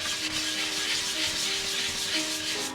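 Steady abrasive rubbing as a car body panel is sanded flat to repair paint after decals or stickers were removed, continuous and close for the whole stretch, with no talk.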